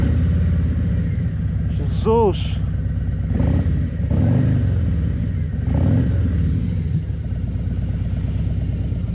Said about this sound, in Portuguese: Vamos lá então pôr a moto a trabalhar.